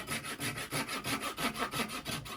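A Ruitool double-edge pull saw cuts through wood in a steady rhythm of about a dozen quick, rasping strokes, close and fairly loud, with no voices.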